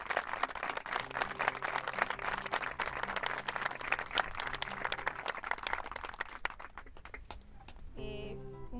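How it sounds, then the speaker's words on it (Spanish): A live audience at an outdoor morning event applauds, with a sustained, dense clapping that carries on steadily and thins out toward the end, where a voice briefly comes in. "Creo que merecen un aplauso"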